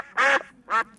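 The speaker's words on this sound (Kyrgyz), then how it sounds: "Каздардын үнү ооба чыгат." Goose-like honking sound effect used as a signal on a talk show, two loud nasal honks close up, the first longer and the second shorter, with no talking over them.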